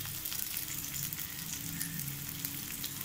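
Chopped onion and green chillies sauté in a pan over a medium flame for coriander chutney, giving a steady, close, crackling sizzle with no talk.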